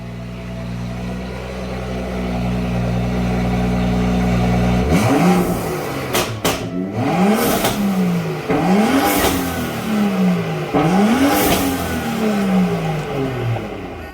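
A BMW M235i with an N55 engine, MST intake and blow-off valve idles loudly, then revs sharply about four or five times, each rise and fall clear and close, with crackling bursts between revs and no talking.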